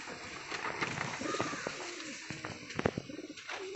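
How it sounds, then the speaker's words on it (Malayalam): A male high-flyer pigeon coos in a loft, soft repeated throaty coos close by, mixed with faint chirps and light rustling at low volume. "ഇതിൽ മെയിൽ പ്രാവ്."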